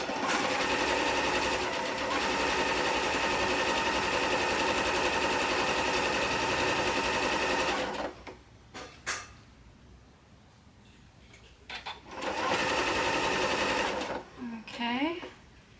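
Sewing machine stitching a quilt section in one long continuous whirring run of about eight seconds, then stopping, with handling noises and a brief final burst.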